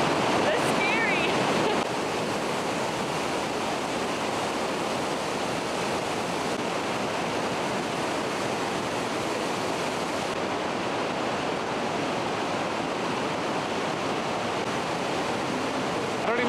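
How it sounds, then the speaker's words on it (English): A powerful waterfall along a Colorado mountain highway, with a river-sized flow plunging straight down, makes a steady, loud, broadband roar with wind buffeting the microphone. "I thought it was gonna be a small stream coming down. No, it's like a river goes straight down."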